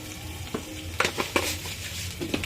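Paneer masala with a little sugar stir-fried over a low flame: a soft, steady sizzle with several sharp spatula scrapes and clicks against the pan.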